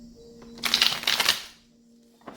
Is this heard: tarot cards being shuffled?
yes